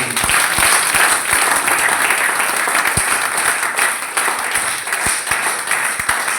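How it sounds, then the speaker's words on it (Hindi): A seated audience at a training event breaks into sustained, dense applause, many hands clapping steadily at close range for the whole stretch without any talk. "एक शानदार ताली होनी चाहिए सब"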